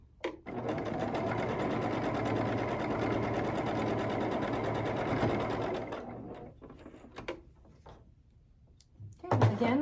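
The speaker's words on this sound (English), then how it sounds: "And sew it." A sewing machine stitches quilt block pieces in a fast, loud, continuous whir for about six seconds, then stops, followed by quiet handling clicks and fabric shuffling.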